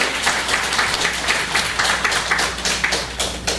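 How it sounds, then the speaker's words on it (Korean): Congregation at a Sabbath church service clapping to welcome two visitors from London, a steady rhythmic round of applause with distinct individual claps, fairly close and without voices. "박수로 환영하십시다."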